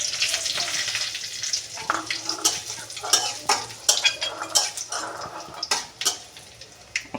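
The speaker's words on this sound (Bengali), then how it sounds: "পাঁচফোড়নটা একটু নেড়ে চেড়ে নেবো ভালো করে। এখন আমি তার মধ্যে শুকনো লঙ্কাটা দিয়ে দিব।" Panch phoron and dried red chillies stirred in hot oil in a pan, with a steady close sizzle and repeated scraping, clinking strokes of a spoon against the metal.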